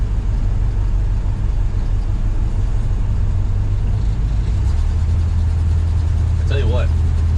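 An old Chevrolet Squarebody K10 truck drives in snow, with a steady low engine rumble that stays loud and even throughout, shifting pitch slightly near the end, as someone talks over it.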